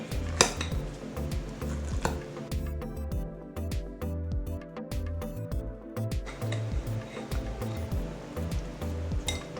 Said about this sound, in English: And then you're just going to stir this up.